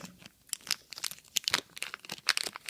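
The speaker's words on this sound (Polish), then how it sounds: "wielka folia na taką małą rzecz." The foil wrapper of an advent calendar gift is crinkled and crumpled by hand, giving a close, continuous series of irregular crackles and rustles.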